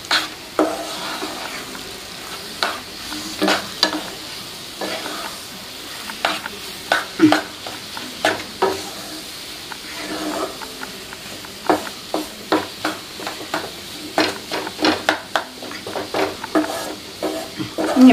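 Upma cooks in a pan over a low flame as a utensil stirs it, with irregular scraping strokes and soft clatters over a faint sizzle, close and alone for about eighteen seconds.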